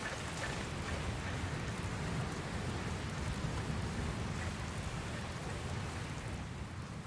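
Steady hiss of a rainstorm in the video game Dragon Quest Builders 2, a constant wash of falling rain at moderate level with no distinct thunderclaps standing out.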